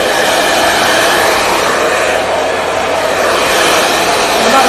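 A hair dryer blows steadily on cropped hair after a trim, a loud, close, continuous airy whoosh with an even motor hum and no pauses.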